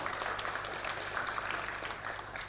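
Steady clapping from a crowd, dense and continuous throughout, moderately loud with no pauses.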